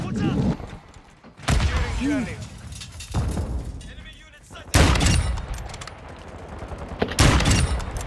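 Bursts of rapid video-game gunfire, loud and close, returning in several sharp volleys with thuds and breaking sounds between them, under occasional talk.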